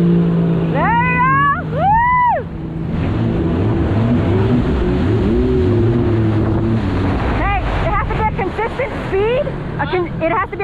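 A Sea-Doo personal watercraft roars loudly as it accelerates in sport mode, with a steady engine drone, rushing water and wind buffeting close to the microphone while people shout and talk over it.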